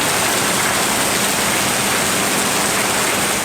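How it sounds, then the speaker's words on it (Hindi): Heavy monsoon rain pours down over Karachi, a dense, steady roar of rainfall that stays loud and unbroken throughout, with no voices over it. "फेडरल बी एरिया समेत कराची के मज़ाफाती इलाकों में भी बादल जमकर बरसे।"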